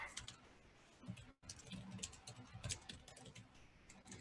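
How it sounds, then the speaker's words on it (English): Rapid, uneven keyboard typing with clustered key clicks and brief pauses, close by and fairly quiet, with no voices. "Sorry, my typing is terrible today."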